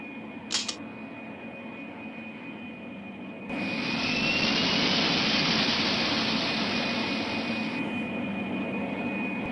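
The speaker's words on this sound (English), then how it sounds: "We're next on the runway to take off." Airliner jet engines spool up for takeoff in Pink Panther: Passport to Peril, a steady roar that swells suddenly and holds loud and close after a brief chime, with a thin high whine running throughout.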